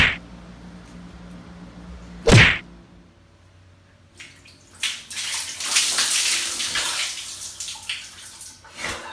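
Running water splashes while a face is being wetted: a low background stream, a sharp splash burst near the start, then louder, uneven gushing and splashing close by.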